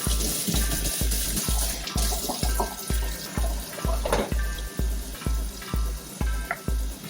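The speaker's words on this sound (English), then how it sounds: "This gets rinsed." Aquarium filter rinsed under running tap water, a continuous splashing stream broken by regular rhythmic bursts as the filter is worked back and forth, close and moderately loud.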